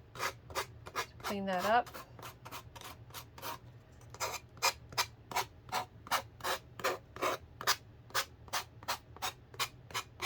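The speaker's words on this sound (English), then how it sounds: "just with your sander, just sand the edges." Sanding the edges of a wooden pumpkin, heard as a steady series of rhythmic rasping strokes, roughly two or three per second, close and fairly loud, with a brief spoken remark near the start.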